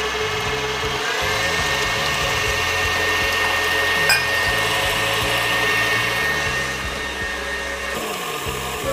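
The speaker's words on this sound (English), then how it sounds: "we're going to whip the yolks until that sugar is melted and the yolks are light pale yellow, about 4 minutes on medium-high speed" An electric stand mixer whips egg yolks and sugar at medium-high speed for ice cream, a steady motorized whir running continuously with slight shifts in pitch as the beaters work the mixture.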